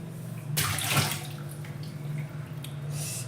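Water pours in a short gushing burst, then trickles and splashes more quietly before a second brief rush near the end.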